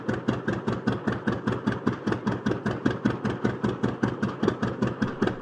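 Vintage tractor with a 7.6-liter water-cooled gasoline or kerosene engine of about 27 horsepower runs at a steady, slow idle, each firing stroke a distinct thudding chug in an even, loping rhythm, close and alone.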